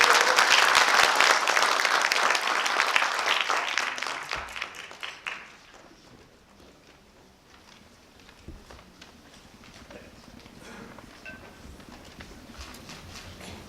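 Applause from a seated audience at a Korean cultural event, greeting a writer about to give a welcome address; loud, dense clapping for about five seconds, then it thins out to scattered claps and quiet room noise.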